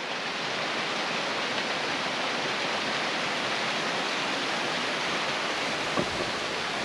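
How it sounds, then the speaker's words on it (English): Waterfall on the Josephine Peak hike in foggy conditions, a steady full-band roar of rushing water that holds unbroken and close for the whole stretch, with no voices over it. "Here's another really cool vantage point of that waterfall."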